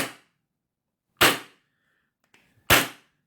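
Three sharp airsoft shots from a gun fitted with a Spunky Micro MR GEN2 regulator and on/off valve, cranked to full, crack out alone at irregular intervals, each a loud broadband snap with a short decaying tail and faint mechanical ticks between.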